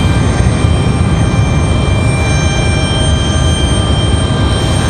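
A C-17 military transport aircraft at Raleigh-Durham airport gives a steady, loud, broadband jet roar with a constant engine whine throughout, unbroken and close.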